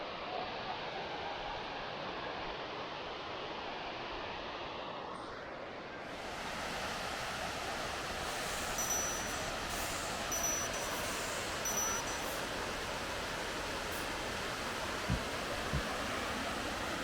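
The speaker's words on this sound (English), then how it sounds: "That's the waterfall right there." Waterfall among tea plantations near Coonoor, giving a steady broadband rush of falling water that grows fuller and louder partway through, with faint voices at times.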